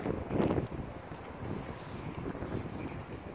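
Cold wind blows steadily across the microphone outdoors at Dongdaemun History and Culture Park, a continuous low rumbling buffet with a stronger gust near the start.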